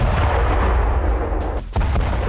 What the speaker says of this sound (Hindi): कुर्स्क में यूक्रेनी सेना ने रूस के हथियार गोदाम पर धमाके किए।